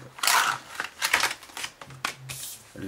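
Cardboard box being opened to unbox an iPhone tripod mobile holder: several brisk scraping and rustling bursts of packaging handled close up, with short pauses between, no talking.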